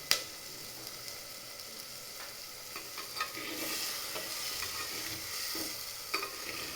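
Chicken masala fries in a clay pot with a faint, steady sizzle that swells midway, along with a few soft scrapes and taps from stirring.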